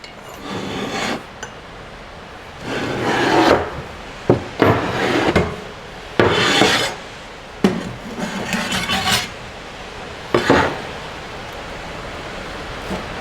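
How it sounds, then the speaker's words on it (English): Excess casting sand is brushed and scraped off a foundry table in repeated gritty sweeps, loud and close, separated by short pauses and a few knocks. "we're just going to clean off the excess sand off the table."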